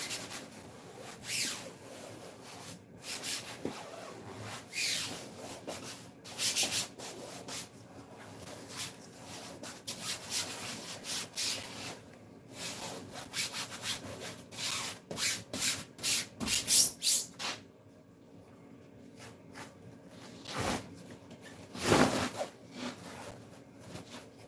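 A hand rubs a glued-down covering smooth with repeated close, dry rubbing and scraping strokes. The strokes come in uneven bursts with brief pauses between them.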